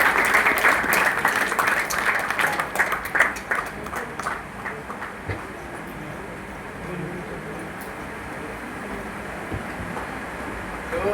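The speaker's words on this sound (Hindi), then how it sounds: "तो मैं चाहूँगा एक बार संजीव सर के लिए भी जोरदार तालियां हो जाए।" Applause from an audience at a poster and song launch for a Garhwali movie in New Delhi, loud and dense at first, then thinning and fading to a quieter crowd murmur.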